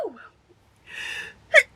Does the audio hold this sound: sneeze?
yes